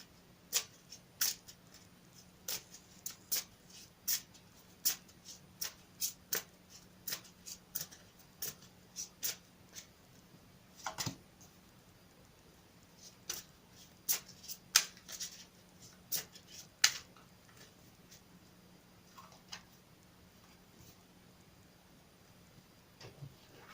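Tarot and angel cards shuffled by hand in a series of quick, crisp riffling bursts with short pauses between, close and fairly soft, with no talking.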